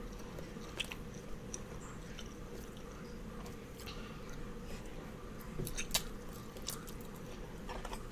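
Close-up biting and chewing of spicy chicken feet soup in a Thai mukbang, soft wet crunches and squishy chews repeating steadily over a low constant background hum, with occasional sharper bites.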